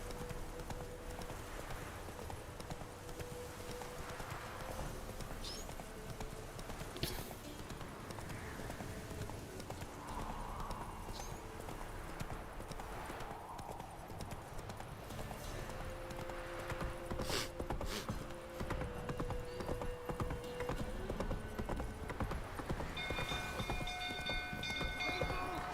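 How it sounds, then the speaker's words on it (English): A horse gallops in The Witcher 3 with a steady run of hoofbeats through the whole stretch, set among in-game ambience and other quieter game sounds. "Run, Roach."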